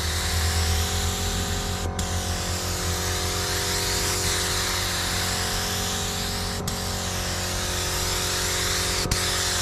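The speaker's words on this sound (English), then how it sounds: "So we're literally just doing a light spray over the top" A spray gun lays a light coat of Raptor texture coating, producing a loud, steady hiss of air and spray that runs unbroken throughout, with a few brief pauses in the flow.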